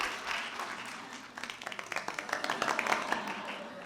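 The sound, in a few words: audience clapping after a talk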